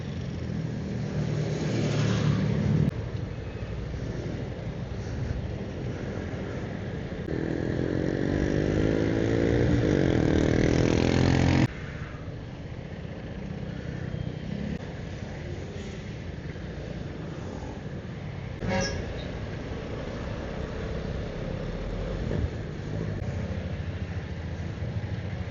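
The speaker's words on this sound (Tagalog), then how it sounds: "Ang traffic." Road traffic passing a Vespa scooter on a highway on the way to Los Baños, Laguna: steady engine rumble and wind with swelling vehicle passes, loud and continuous, no talk.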